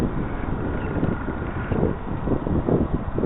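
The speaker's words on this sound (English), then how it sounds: "Wind's really rocking it around" Wind buffets an outdoor microphone during a flight of a Dynam FW190 radio-controlled warbird in 10–15 mph gusts, a steady low rumble swelling in uneven, fairly quiet gusts with no voices.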